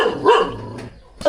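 A dog barks once, loud and close, a short full bark followed by a fainter trailing yelp outdoors, with no talking over it.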